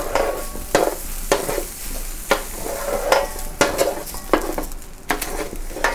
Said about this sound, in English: So I'm gonna scrape them back into the bowl.